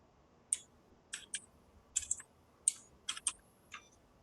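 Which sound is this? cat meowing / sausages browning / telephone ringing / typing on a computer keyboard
typing on a computer keyboard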